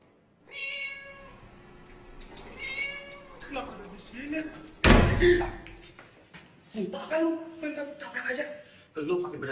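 A cat meows several times during a tense horror film scene, its cries mixed with nervous talk between people, a loud thud like a door slamming midway, and a short chuckle.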